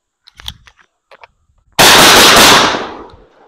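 A single loud 12 gauge shotgun blast fired with a random buckshot load, sharp and close, its report decaying over about a second after some faint handling noises.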